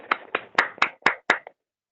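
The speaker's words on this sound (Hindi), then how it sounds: "ताली बजा दे एक बार इसके लिए आज" A student in a classroom claps hands in a quick burst of about six sharp, evenly spaced claps, close and fairly loud, then stops into silence.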